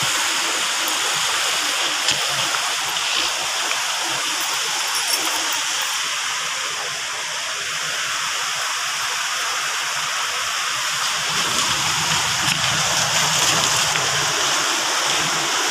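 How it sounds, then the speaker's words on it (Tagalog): Strong, steady rushing of water roars throughout at Budlot spring in Taginis, a loud broadband wash like a fast current or small falls, with a faint voice briefly near the end. "lakas ng agos ng tubig,"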